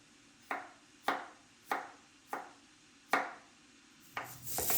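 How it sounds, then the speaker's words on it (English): A knife chops garlic cloves into small pieces on a board, six distinct sharp chops at an uneven, unhurried pace, close and clear, with a rustle of handling at the end and no talking. "Clean a few cloves of garlic and cut them into small pieces."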